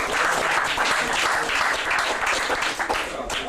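An audience applauds in honour of the late Paddy O'Regan, a county championship medal winner, at a Wildflower of the Laune event in 1995; a full, steady round of clapping from many people runs the whole way without a break.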